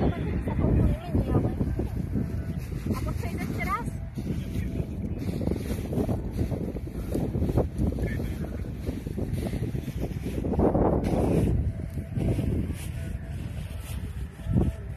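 Strong wind buffets the microphone at the Straník paragliding launch site, a continuous rumbling roar with gusts that swell and ease while people talk.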